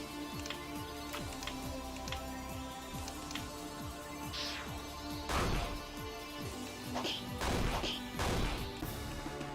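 Repeated smashing and whacking impacts from enemies being struck in the video game Slime Kingdom, dense game effects with bursts of heavier crashes over a steady musical background, no talk.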